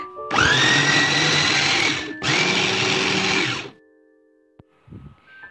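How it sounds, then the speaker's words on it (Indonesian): A food chopper grinds green chilies for sambal ijo in two loud whirring bursts with a short pause between them, then stops, followed by a few faint clunks. "Lalu ini kita tutup dan kita chopper sampai halus."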